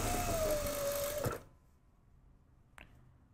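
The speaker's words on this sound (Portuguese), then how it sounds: "aguento o elástico esticado e venho costurando" A sewing machine stitches stretched elastic for just over a second with a fast mechanical whir, then stops, leaving a faint room hum and one brief click.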